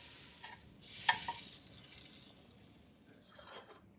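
Blueberry cream cheese French toast fries in a pan with a soft, steady sizzle. One brief louder hiss flares up as a slice is turned, then the sound settles back to a quiet crackle.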